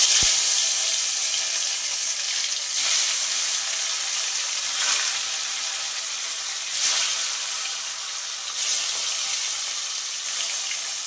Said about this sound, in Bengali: এবারেই মাছগুলো তেলের মধ্যে দিয়ে মাছগুলো ভেজে নেব